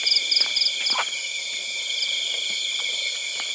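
Night forest chorus heard from a room in a house deep in the woods: steady high insect trilling of crickets, with short repeated chirping calls and scattered faint knocks over a constant drone, no voices.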